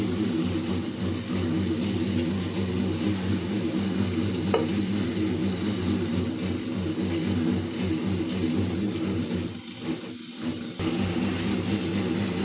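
Grated coconut for rice-and-coconut kozhukattai is stirred in a pan, making a continuous close scraping rustle over a steady background hum, with no talking.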